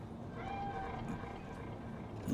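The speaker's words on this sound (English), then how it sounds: "Do you see it? That cat? Fine-looking feline." A cat meows in Cyberpunk 2077: a soft, drawn-out tonal call in the game, faint and fairly close, over a low ambient background, with a louder thump at the very end.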